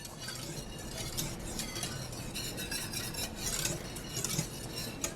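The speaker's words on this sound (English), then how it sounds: "I'm gonna whisk these grits up real fast." Grits are whisked quickly in a pot, making a soft, continuous scraping and swishing with faint metallic clinks of the whisk against the pot.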